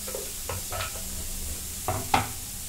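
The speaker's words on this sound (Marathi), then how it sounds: "आता या सर्व भाज्या टाकून घेते." Vegetables such as tomato and eggplant fry in a pan, a soft sizzle running underneath a few scraping stirs of a spoon, with a sharper clack near the end.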